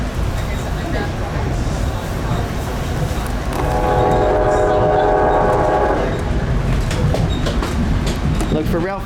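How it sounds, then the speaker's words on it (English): A Reading Blue Mountain and Northern Railroad train horn sounds a long blast at a grade crossing in West Leesport, Pennsylvania, from about three to six seconds over the steady rumble and clatter of the passing train, with voices in the background. "the train sounds the horn for the Lee Street and Main Street grade crossings"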